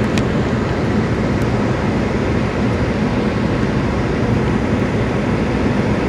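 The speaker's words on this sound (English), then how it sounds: "Looks like it's an Autorack train by the looks of it." Steady, loud rumbling roar of a CSX autorack freight train rolling past close by beside US Highway 10, continuous and unbroken for the whole stretch with no voices.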